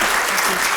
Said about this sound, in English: If you join us and give them a round of applause.